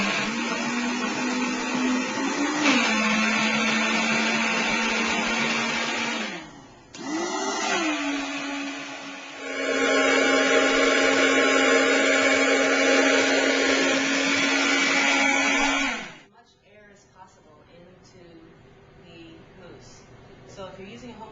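A home blender whirs loudly as it blends chocolate mousse with water, starting low and then running up to high. The motor stops briefly and restarts before cutting off, and a person talks during the pauses.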